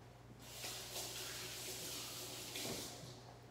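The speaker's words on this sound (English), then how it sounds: "Then I'm gonna go wash my hands real quick." A kitchen tap runs while hands are washed after mixing salmon burger ingredients, a steady close hiss of flowing water lasting a few seconds with slight splashing changes.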